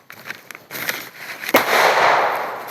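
Firecrackers set off at an Eid celebration give a few sharp pops, then a louder bang that leads into a long, dense crackle of bursts close by.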